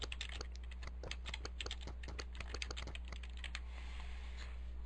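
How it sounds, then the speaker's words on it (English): Quick, uneven keystrokes on a computer keyboard while entering text into a CMS article, a close, dry run of clicks for about four seconds in a quiet room with a steady low hum. "I'm going to type in just something simple."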